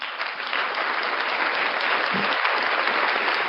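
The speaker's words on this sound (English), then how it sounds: "Round of applause for you guys" Steady, dense applause from a crowd, sustained at an even loudness throughout with no voices standing out.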